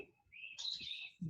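Birds somewhere outside give a short, thin chirp that slides upward and then trills, faint and distant, with soft low sounds around it.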